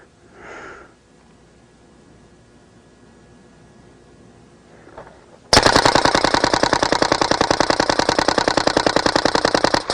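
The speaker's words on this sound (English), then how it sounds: "Semi, that's semi-auto. Still see it's shooting above 260." A Smart Parts Vibe paintball marker running on CO2 fires in semi-auto, first a couple of soft sniffs and puffs, then a sudden loud, rapid, evenly spaced string of shots that continues to the end.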